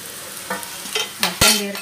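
Chopped ridge gourd and onion sizzle in a hot pan while a spoon stirs them, giving a few short scraping bursts over a soft, steady frying hiss.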